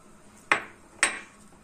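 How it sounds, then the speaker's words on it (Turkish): Two crisp cracks spaced about half a second apart, close and clear, as eggs are cracked one by one into dough, with nothing else heard. "Yavaş yavaş yumurtaları ekliyoruz."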